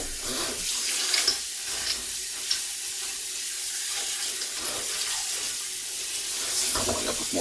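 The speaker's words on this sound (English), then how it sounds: "Filling up with more water here." Steady water from a faucet splashes into a pot being topped up during rock tumbling, a continuous close hiss and gurgle with no talk over it.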